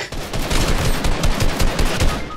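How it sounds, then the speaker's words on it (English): Rapid automatic gunfire in the video game Fortnite, loud dense bursts of shots firing continuously with no break. "He's shooting at you."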